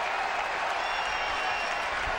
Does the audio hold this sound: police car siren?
no